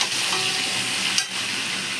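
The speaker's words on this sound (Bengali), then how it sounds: "এদিকে দেখানো মাছের তেল হয়েছে ছিটকে পড়ছে" Fish oil and fish heads sizzle hard in a hot pan, making a loud, dense, continuous hiss close by with one brief spatter flare. No one speaks.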